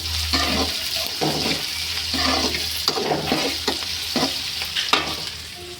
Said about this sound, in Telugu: ఎర్రగడ్డలు ఫ్రై అవుతూ ఉండాలి.